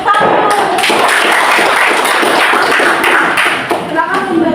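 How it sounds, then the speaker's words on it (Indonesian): Group clapping in a classroom after a group discussion presentation, a short burst of taps and thuds from a handful of people close by, fading after a few seconds. "Oke, tepuk tangan."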